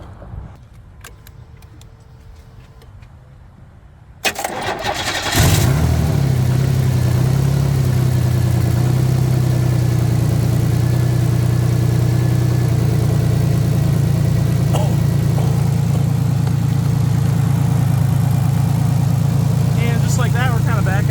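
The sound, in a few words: car engine starting and idling after jump start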